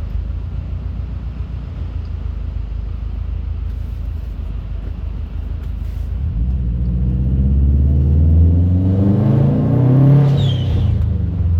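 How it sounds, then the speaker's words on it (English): A turbocharged car speeds up from a steady low rumble into a loud rising engine roar, with a high whistling turbo spool sweeping upward near the end. "Whoever's here just for the turbo is getting their money's worth now."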